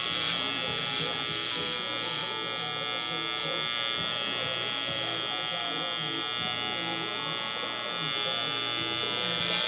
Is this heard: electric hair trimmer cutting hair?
yes